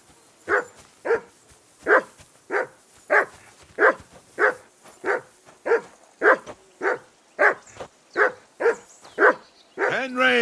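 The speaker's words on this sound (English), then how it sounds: "Whistle at that mutt of yours to stop barking." A dog in Kingdom Come: Deliverance II barks steadily, about sixteen evenly spaced loud barks roughly every half second, close by, ending as a voice starts.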